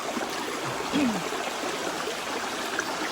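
River water streams steadily in a continuous, close broadband rush, with a brief faint vocal sound rising partway through.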